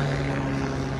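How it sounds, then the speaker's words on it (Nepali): Helicopter engine and rotor drone heard near Pokhara, Nepal, a steady loud hum with strong low tonal bands holding constant for about a second, no talk over it. "हेलिकप्टर"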